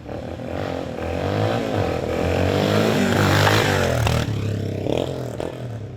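A 2005 Yamaha XT225 motorcycle engine runs close by and loud, rising and falling in pitch as it revs, with a rough, buzzy single-cylinder tone and no talking.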